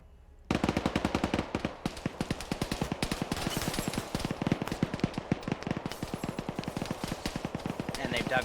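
Suppressive machine gun fire in Arma 3, a long sustained stream of rapid rhythmic bursts that starts abruptly and keeps hammering loudly and close throughout, with a voice faintly underneath.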